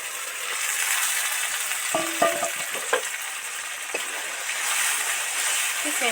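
Steady hissing sizzle of fried pointed gourd added to spiced oil, with a few brief clinks and thuds of stirring, moderately loud and close.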